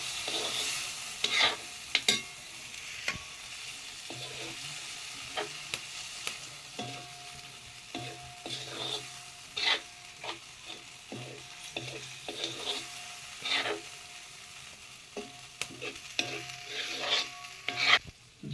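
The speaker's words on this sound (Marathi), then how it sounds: "कालवा टाकला ना तर मिक्सिंग करून घ्या मस्तपैकी कालवा ग्रेव्हीत" Clams get stirred into a thick Konkani-style gravy in a pan, with a spoon scraping and clacking at an irregular rhythm over a faint bubbling sizzle, close and fairly quiet, with no talk.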